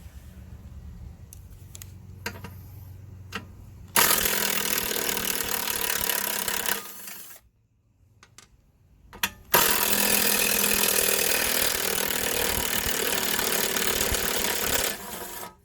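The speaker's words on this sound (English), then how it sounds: "My little impact driver just doesn't have enough guts for this." An impact driver struggles against 3/8 bolts, sounding in long, loud, harsh bursts of whirring hammering with a brief quiet pause between runs, close by with no speech.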